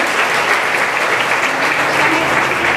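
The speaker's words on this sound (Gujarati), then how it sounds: "એટલે જોરદાર તાળીઓ આ ગ્રુપ માટે." A crowd applauds loudly and steadily for a music group at a Janmashtami Krishna-song concert by a music college, dense clapping sustained throughout.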